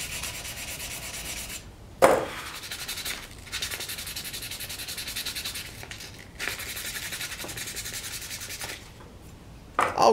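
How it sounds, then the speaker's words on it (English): Steady rhythmic rubbing of sandpaper on a handmade wooden carving knife, long back-and-forth strokes with brief pauses and a couple of sharp knocks. "Then I'll finish up with sandpaper."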